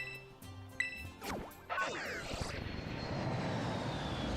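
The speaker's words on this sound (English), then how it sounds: "Taking an airplane." Airplane flying in the Pokémon Scarlet video game, a sustained engine drone that swells in after a few game chimes and whooshes, then holds steady and fairly loud to the end with no talking.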